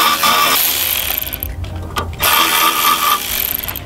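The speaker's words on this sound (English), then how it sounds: "And then I'll take my 3/8 battery ratchet." A 3/8 inch battery ratchet loosens bolts while removing a K24a2 engine and six speed transmission from a yard, giving a loud buzzing whir with two short breaks where it stops and restarts.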